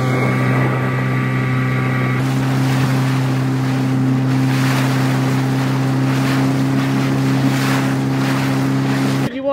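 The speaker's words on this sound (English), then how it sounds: "We'll try anything to get the dinghy to plane." A motor dinghy planing over waves at sea, its outboard engine droning steadily and loud throughout, with water rushing and slapping against the hull and wind noise mixed in; no one speaks.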